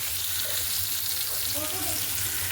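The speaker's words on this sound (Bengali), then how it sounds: "এদিকে ভাত ফুটছে উঠছে কুমড়ো ভাজা করছে" Pumpkin slices fry in a pan with a steady, fairly quiet sizzle, a continuous crackling hiss in a home kitchen alongside faint background clatter.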